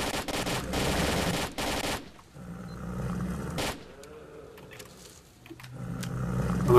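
Automatic rifle fire from the S.T.A.L.K.E.R. shooter game, a dense, loud sustained burst that cuts off abruptly, then a quieter pause with rumbling ambience before heavier gunfire and noise build again.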